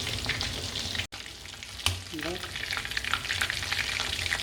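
Chicken 65 pieces fry in hot oil with a close, busy crackle and sizzle. A few stirring scrapes and one brief high squeak sound over the steady frying, which drops out for a moment partway through.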